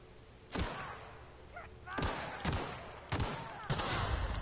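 Gunshots ring out in The Outer Worlds, five sharp separate cracks spaced irregularly over a few seconds, loud and close against a low background hum.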